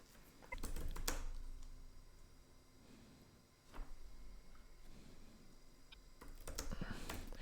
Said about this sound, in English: So we can start typing.